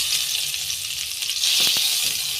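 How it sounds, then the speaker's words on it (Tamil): Butter melts in a hot pan for fish fried rice and gives a bright, steady sizzle close to the listener, with a couple of soft clicks near the end and no voices. "பட்டர் நல்லா மெல்ட் ஆகட்டும்."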